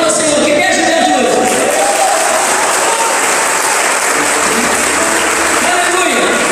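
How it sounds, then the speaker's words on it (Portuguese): Young people applaud during an evening church service, a dense, steady wash of clapping that fills the whole stretch at full loudness, with crowd voices mixed in. "Se é verdade, os jovens aplaudem ao Senhor."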